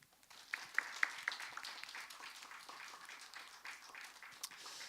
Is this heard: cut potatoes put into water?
no